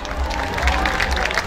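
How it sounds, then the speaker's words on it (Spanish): Audience at a huapango and son arribeño festival in San Ciro clapping in a dense, continuous patter, crowd noise swelling around it with a voice talking over the top. "¡Fuerte el aplauso!"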